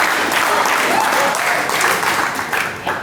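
A comedy show audience cheers and applauds, a dense, loud wash of clapping and whoops that holds steady and then tapers off slightly toward the end.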